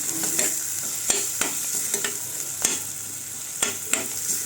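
Masala spices fry in oil for a brinjal potato curry, a steady close sizzle broken by several sharp clicks of a spoon stirring against the pan at irregular intervals, with no speech.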